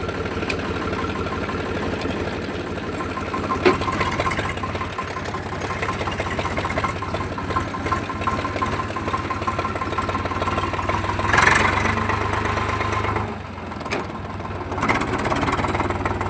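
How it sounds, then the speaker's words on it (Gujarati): An Eicher 485 tractor with a 45 horsepower engine idles after a difficult start. The diesel thrums in a steady, knocking chug up close, rising briefly in a couple of spots before settling back to an even idle. "આવ્યું આપણું ટ્રેક્ટર આઈશર 485"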